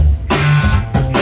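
Drum kit kick and snare pattern that doubles the bass line in a track: a short, loud burst of a booming kick followed by sharp snare hits, with bass and music underneath.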